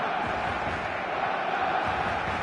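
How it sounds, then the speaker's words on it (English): Stadium crowd in the eFootball video game, a steady dense roar of many voices filling the space at a constant level, with no clear individual calls standing out. "The stadium is full of noise and energy."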